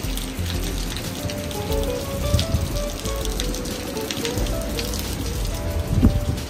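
Heavy rain pours at the Escale à Sète 2024 maritime boat festival in France, a dense, loud, continuous patter and splash on surfaces with no voices.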